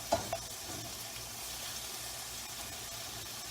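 A Cajun shrimp skillet sizzles steadily in a pan while it is stirred, with a brief scrape near the start and a continuous hiss underneath.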